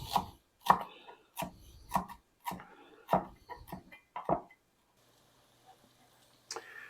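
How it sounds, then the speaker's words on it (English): A knife chops fresh cilantro on a cutting board: about ten sharp, close knocks in an uneven rhythm over four seconds, then near silence. "Chop up the cilantro."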